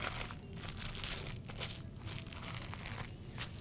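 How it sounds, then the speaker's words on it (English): Wax-coated brie cheese being unwrapped, giving a steady close crinkling and crumpling of wrapper with brief tearing bursts, continuous for a few seconds with no talking. "We are going to start by unwrapping our cheese."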